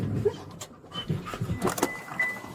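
A police dog pants in quick, quiet breaths close by, with scattered soft whimpers and faint background noise.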